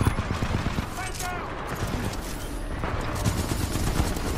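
A turret fires in Titanfall 2, dense continuous automatic gunfire and explosions as players talk over the din.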